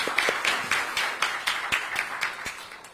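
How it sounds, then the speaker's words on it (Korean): Audience applause welcoming a speaker at a Korean political lecture event, steady overlapping clapping from a room full of people with rhythmic accents, fairly close and continuous. "큰 박수로, 다시 한번 큰 박수로 환영해 주시기 바랍니다."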